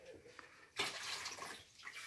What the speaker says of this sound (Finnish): Otetaan tuolta raikasta vettä.